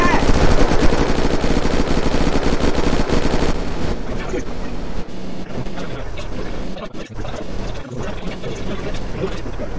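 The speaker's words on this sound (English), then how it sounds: "Just shoot the base." Rapid video game gunfire hammering at a base during a raid, a loud dense burst in the first few seconds, then continuing shots and mechanical clatter at a lower level, with a voice heard briefly.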